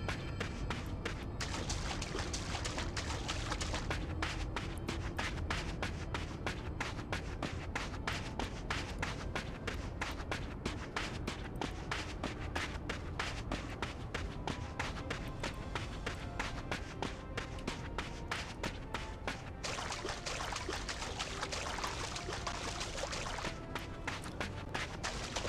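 Footsteps in Final Fantasy XIV play a watery splashing sound even though the character walks on sand, a rapid even patter of steps running on throughout, with some talking in the background.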